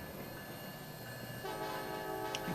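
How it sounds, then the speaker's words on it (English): A train pulls in within the video game Transport Fever, a low rumble of rolling wagons building gradually before a brief tonal horn sounds near the end, fairly quiet and without voices. "There comes our train."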